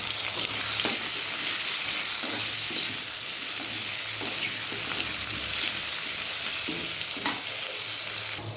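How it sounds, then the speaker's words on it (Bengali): Potato and brinjal frying together in a pan, a dense continuous sizzle with occasional soft stirring scrapes, close and steady throughout with no voices. "আলুটার সঙ্গে লাল লাল করে একটু ভেজে নেবো।"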